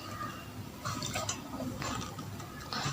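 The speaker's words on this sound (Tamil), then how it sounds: "டிஷ்யூ பேப்பர்லேயும் தண்ணி தெளிச்சிடலாம்." Water sprinkled by hand onto tissue paper laid over fenugreek seeds makes soft, close patters and light splashes in brief uneven bursts over a faint background, with no talking.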